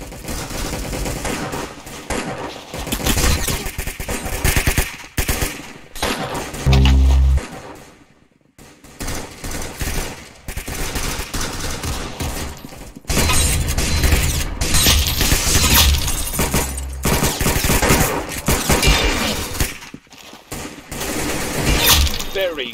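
Bursts of gunfire from the online shooter game Arsenal crackle in rapid volleys, loud and close, with voices talking over and between the shots.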